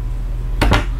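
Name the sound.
drawers opening and closing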